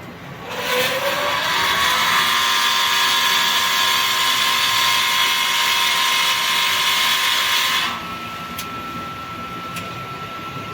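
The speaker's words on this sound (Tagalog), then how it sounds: "Pump motor." Pump motor of a vacuum fryer starts up and runs with a steady, loud, close whine for about seven seconds, then cuts off, leaving a quieter background hum with a couple of faint clicks.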